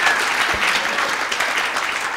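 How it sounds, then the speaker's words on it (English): Wedding guests applaud the newly married couple, a steady wash of many hands clapping at moderate distance, continuous and even with no talk over it. "Gentlemen, another round of applause for Mr. and Mrs. Lawrence."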